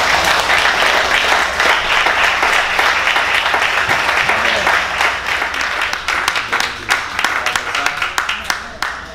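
A church congregation applauds steadily and loudly in a large, sustained wave of clapping that thins toward the end into more distinct individual claps, with crowd voices mixed in under it.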